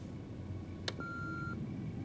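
A single short electronic beep from an answering machine before voicemail playback in Murdered: Soul Suspect, a brief click followed by a steady half-second tone against a quiet room hum.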